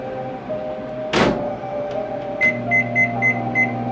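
A microwave oven heating plastic lure molds hums steadily, then a door thunks open or shut and a series of four or five short electronic beeps follows, close and clear with no talking.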